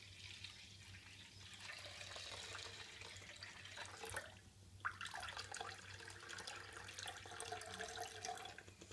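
Water is poured off settled wheat batter into a cooking pot, a soft continuous trickle and splash near the mic with a brief pause partway through, quiet and close.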